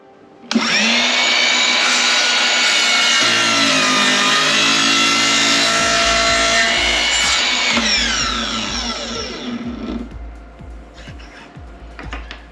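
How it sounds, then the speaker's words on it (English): A power saw cuts through two lined-up wooden pieces for a towel rail or blanket ladder, a loud steady whine lasting several seconds before spinning down and fading out. "we're going to just cut through these two pieces at once that are perfectly lined up."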